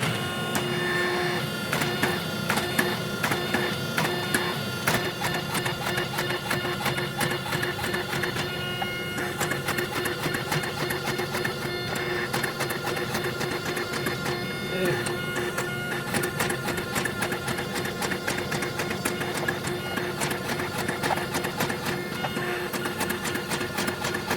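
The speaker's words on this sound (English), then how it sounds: "the rounding dies are on there. So, start drawing this out" Forging hammer fitted with rounding dies drawing out a mosaic Damascus steel billet for a 3.5-inch hunting knife, a dense, steady stream of rapid mechanical blows and clatter running throughout, with a voice talking over it.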